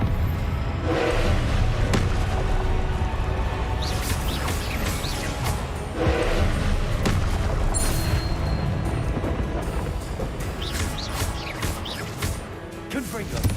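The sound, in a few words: Confringo blasting spell explosions in the video game Hogwarts Legacy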